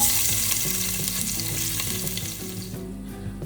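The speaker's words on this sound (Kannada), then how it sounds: "ಸೊ ಇವಾಗ ಬೆಳ್ಳುಳ್ಳಿ ಎಲ್ಲ ಚೆನ್ನಾಗಿ ಫ್ರೈ ಆಯಿತು." Garlic and onion fry in hot oil, a loud, steady, close crackling sizzle with faint stirring knocks, easing slightly toward the end.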